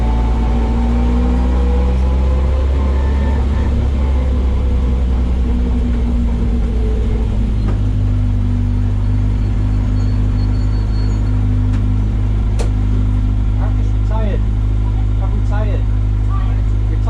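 Uneven, rough idle of a BMW E30 M3 race car engine misfiring at Cadwell Park, a loud low droning rumble with shifting tones and irregular stumbles, while people talk over it.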